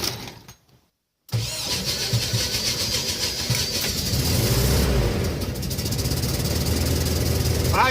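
A VW bus with a newly installed high-performance starter cranks and catches after a brief silence, then settles into a loud, close, steady running drone that later swells as the engine speeds up.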